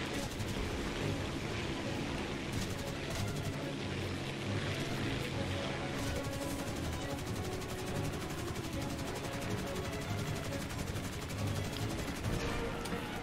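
Aircraft cannon fire in the War Thunder combat flight game, a dense, steady burst of rapid gunfire that runs unbroken for the whole stretch under the drone of the engine, loud and close throughout.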